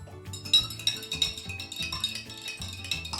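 A spoon clinks and taps against glass cups while stirring vinegar into natural egg dye, a quick string of light, bright chimes at close range with no talking.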